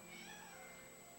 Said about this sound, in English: My cat's the most talkative cat in all the land.